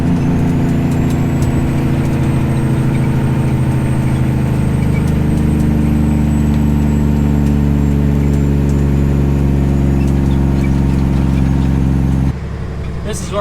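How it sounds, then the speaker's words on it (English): Semi truck engine rumbling steadily with a low, throbbing drone while slowing on a highway exit, the engine brake carrying through the whole stretch before the sound cuts off abruptly near the end. "Let's let the Jakes rattle a little bit on this exit."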